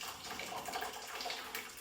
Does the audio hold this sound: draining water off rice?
yes